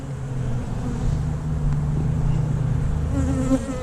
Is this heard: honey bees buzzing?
yes